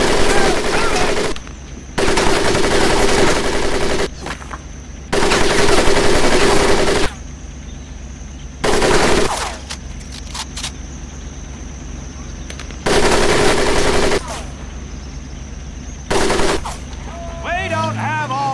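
Machine gun fire on a training range in the video game Medal of Honor Pacific Assault, loud sustained bursts of several seconds each, separated by short pauses, with a steady drone beneath.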